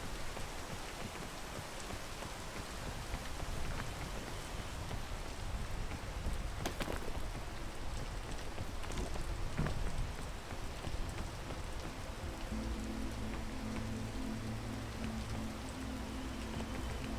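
Steady rain falls in the video game PEAK, a dense, even hiss of drops on surfaces that holds unbroken at moderate level, with a faint low rumble partway through.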